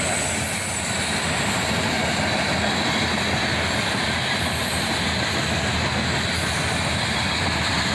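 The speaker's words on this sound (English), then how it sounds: "Another train led by double SD43s, roaring at track speed in the bright sunlight." A CSX freight train led by two SD43 locomotives passes at track speed in bright sunlight. Its deep, continuous roar and wheel rumble stay loud and close throughout, with no break in the noise.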